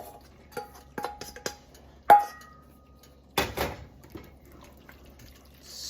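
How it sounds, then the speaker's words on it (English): Elbow macaroni tipped into a pot of cheese sauce: scattered light clinks and taps, then a louder clatter and a short wet pouring rush, close by with quiet gaps between. "Now in goes our elbow macaroni"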